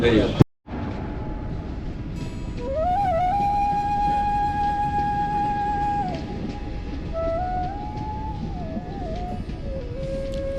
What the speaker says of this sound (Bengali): যথেষ্ট ঠান্ডা আর চলন্ত ট্রেনের হাওয়ার দাপটে গেটের সামনে দাঁড়িয়ে থাকাটা বেশ কষ্টকর হয়ে উঠছিল